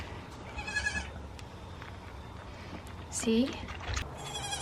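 A goat bleats near the close of the stretch, close and distinct, while a person talks softly and calmly nearby during a goat birthing on a farm.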